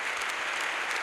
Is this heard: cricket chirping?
no